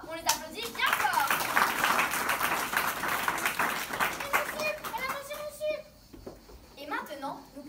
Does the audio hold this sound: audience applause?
yes